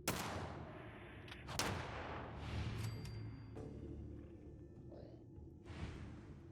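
Several gunshots from a .45 pistol in the video game Fallout 4 ring out at uneven intervals, each a loud, sharp crack with a decaying echo tail, over a steady low background of game noise.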